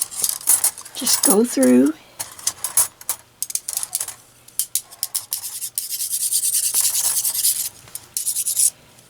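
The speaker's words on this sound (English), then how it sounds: "Let's pair up our knitting needles." Metal knitting needles clinking, rubbing and tapping against one another as they are handled and sorted into pairs, close and crisp, with brief talking in between.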